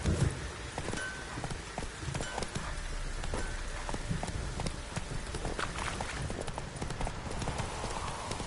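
Horse hooves clip-clop steadily in The Witcher 3, a continuous rhythm of hoofbeats under faint game ambience, with a brief whinny-like note and no talk.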